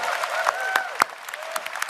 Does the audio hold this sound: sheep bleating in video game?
no